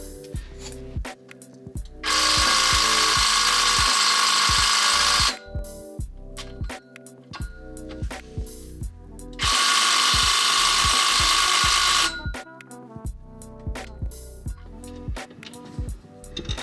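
A ratchet wrench undoing driveshaft bolts under a Toyota Soarer during a manual transmission swap, with loud sharp clicking strokes and two long stretches of steady whirring, close and alone without speech.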